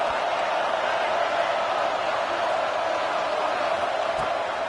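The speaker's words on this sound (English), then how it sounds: "Listen to this crowd just shaking the girders of this place" A football stadium crowd in an NCAA game roars steadily to help the defense, a dense far-off wall of cheering that holds evenly for a few seconds.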